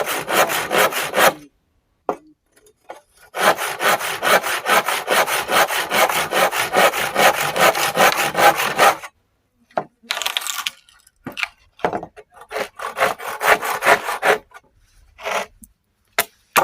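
Harsh, continuous buzzing grind of an angle grinder cutting firewood, running in long loud stretches broken by short pauses and a few brief bursts.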